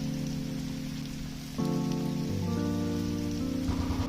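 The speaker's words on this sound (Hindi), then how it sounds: "ज्यादा तेज बारिश होने के कारण मुझे कैमरा बंद करना पड़ा" Heavy rain pours steadily and close by during a motorcycle trip to Rampur, a dense continuous wash with a low tonal hum joining partway through.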